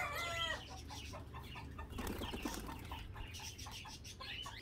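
Caged roosters and chickens feeding, heard as a busy mix of clucks and pecking with a brief crow at the start, steady and fairly close over a constant background hum.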